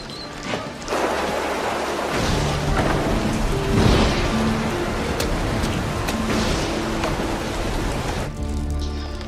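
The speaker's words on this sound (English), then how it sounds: "It's raining outside." Heavy rain pours steadily during a thunderstorm, with low rumbling thunder rolling through it, loud and continuous with no voices.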